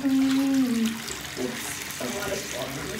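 Water running while a bathtub is cleaned with soap and a broom, a hissing, splashing flow heard close, with a voice speaking over it in places.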